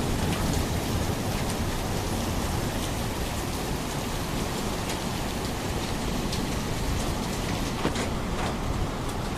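Heavy rain pours steadily in the Carpathian mountains, a dense continuous wash of noise with a low thunder rumble beneath it, loud and close, with no voices.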